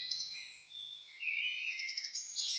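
A swan calls in a series of bright, high chirping notes, rising and falling, moderately faint and alone against a quiet background.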